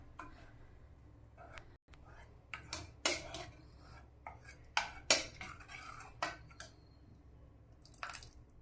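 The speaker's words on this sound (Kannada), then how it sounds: "ಮ್ಯಾಶರ್ ಇದ್ದರೆ ಮ್ಯಾಶರ್ ತೊಗೊಂಡು ಚೆನ್ನಾಗಿ ಮ್ಯಾಶ್ ಮಾಡ್ಕೊಳ್ಳಿ" Cooked lentils for bele sambar being mashed with a masher, giving soft squishy squelches and a few sharp metallic clinks against the pot, close and intermittent, with some quiet moments between strokes.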